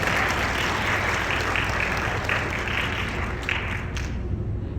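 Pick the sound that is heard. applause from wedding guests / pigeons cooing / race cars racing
applause from wedding guests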